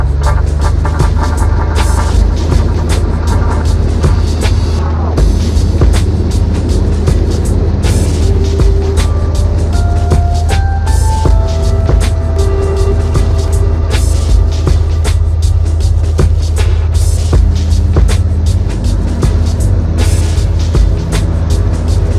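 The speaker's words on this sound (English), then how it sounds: "get the short field takeoff, which has got one stage of flaps, brakes on, as much runway in front of you as you can possibly get" Light aircraft at full revs for a short-field takeoff with one stage of flaps, its engine giving a loud, steady throbbing drone that holds throughout while a few higher tonal notes rise and shift over the top.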